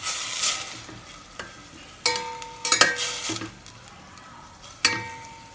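Banana stem pieces sautéing in a pan for plantain shoot soup, with a steady soft sizzle broken by several sharp scraping stirs of a spoon against the metal, close and fairly loud, no talking.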